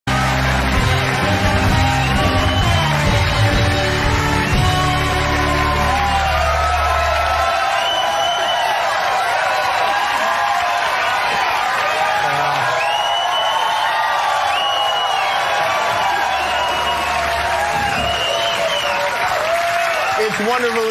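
Studio audience on a late-night talk show cheering, whooping and applauding loudly and continuously for comedian Don Rickles, sustained roar with shouts throughout.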